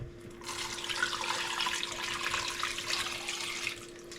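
Water runs steadily from a tap into a pot, a continuous close hiss and splash lasting a few seconds as a liter or two is filled for boiling bamboo shoots.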